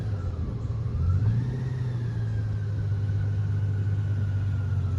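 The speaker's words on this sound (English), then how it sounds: "We both backed our bikes in up this hill." A BMW R18 Bagger's big engine hums low and steady while the motorcycle reverses up a hill, with a slight rise in pitch and a brief surge around the first second, close and continuous, with no voices.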